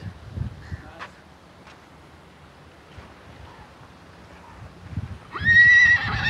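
A foal of the Nukra horse breed gives a loud, shrill whinny near the end, preceded by quiet outdoor background with faint hoof-like knocks and soft wind.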